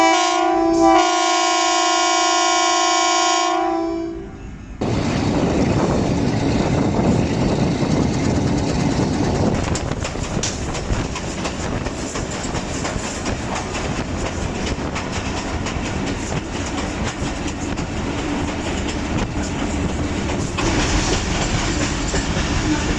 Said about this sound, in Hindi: दस बजकर 3 पर रावी एक्सप्रेस अब पहुंच रही है पीर महल रेलवे स्टेशन